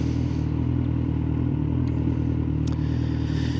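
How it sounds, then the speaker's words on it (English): Mopeds and motorcycles crowding city traffic, their engines forming a steady, close, unbroken rumble with faint rattles and scrapes, and no voices. "Mopeds everywhere."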